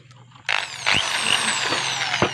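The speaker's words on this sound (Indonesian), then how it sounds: "kita akan bor di bagian ini teman-teman ya" A power drill bores a hole into part of a homemade honey suction machine for stingless bee honey, starting abruptly and holding a loud, steady whining grind close by.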